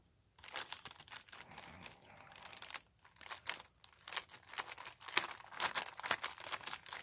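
Packaging of a Cell and Cell Junior figurine box being opened, close crinkling and tearing of plastic and cardboard in irregular bursts, fairly quiet and with no talking.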